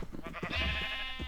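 A single drawn-out sheep bleat in the Minecraft video game, wavering and nasal, heard close and alone for about a second.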